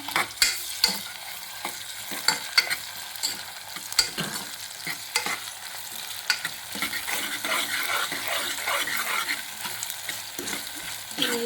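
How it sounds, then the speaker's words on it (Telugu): Ginger-garlic paste being stirred into frying eggplant curry in a pan, with repeated close scraping strokes of a spoon over a continuous sizzle. "ఇప్పుడు అల్లం వెల్లుల్లి పేస్ట్ వేస్తున్నాను మనకు కావాల్సినంత వేసుకోవాలి వేసుకున్నాక కలుపుకోవాలి"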